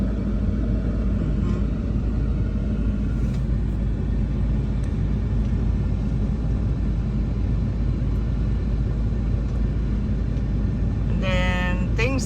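A car rolls over a rough, bumpy road under construction in Ghana, its cabin filled with a heavy, steady low rumble, with a brief rattle near the end.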